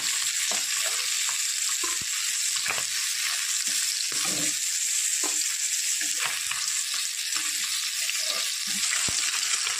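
Small dhela fish sizzle steadily in hot oil in a pan, a loud continuous crackle with occasional sharper pops and spatters, heard alone without voices.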